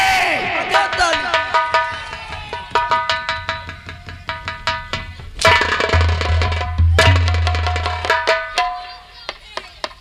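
An audience at a live comedy and dance stage show claps in scattered sharp bursts, loud and close, mixed with voices and crowd noise.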